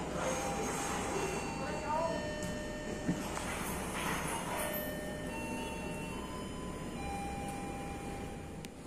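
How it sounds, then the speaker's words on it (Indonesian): Kuto Jaya Selatan passenger train rolling into Tasikmalaya station at night, a steady low rumble of wheels and carriages with faint squeals, under someone talking nearby. "Kereta api Kuto Jaya Selatan masuk stasiun Tasikmalaya di jalur 1"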